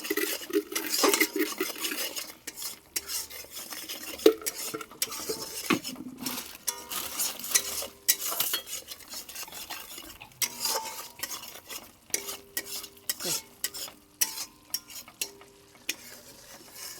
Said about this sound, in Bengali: এই মশলাটা কিন্তু মেন, এটাকে সুন্দর করে কষাতে হবে।